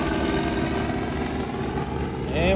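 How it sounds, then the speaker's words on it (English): A helicopter flies overhead near a motocross area in Millville, its engine and rotor a loud, continuous droning whir filling the whole stretch without pause. "We got our helicopter flying overhead."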